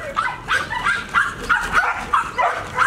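Alpha, a trained K9 protection dog, barks in a quick run of loud, close, repeated barks and yips that come about every half second.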